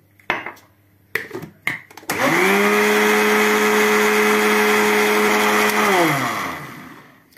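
An electric blender beating eggs, vanilla and milk for a tiger cake batter, starting after a few clicks and knocks, then a loud steady whirring drone that winds down at the end.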